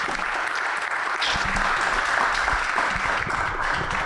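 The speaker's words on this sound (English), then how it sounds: "can we give these gentlemen a great round of applause?" Hearty audience applause for a group of men at a Black Wall Street Speakeasy event at Durham Bulls Park, a full, continuous roar of clapping with some low rumble, steady and fairly loud throughout.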